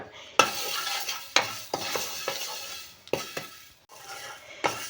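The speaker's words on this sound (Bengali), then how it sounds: "মেথিও খুব ভালো করে ভাজা হয়ে গেছে" Fenugreek seeds dry-roasting in a pan, stirred with a spoon in a series of sharp scraping and clinking strokes over a faint sizzle, close and clear with no talk.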